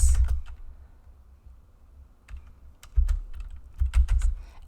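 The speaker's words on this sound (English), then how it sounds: "here you're going to get lots of clicks and bangs because my microphone's on my keyboard table" Typing on a computer keyboard placed on the same table as the microphone, a few quick keystrokes at first, then a pause, then bursts of loud, close clicks and thuds, with no speech.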